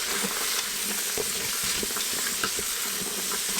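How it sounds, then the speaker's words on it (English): Chopped vegetables sizzling in hot oil in a pot, a dense steady crackle close up with small stirring clicks and no voices. "Now while the vegetables are sauteing"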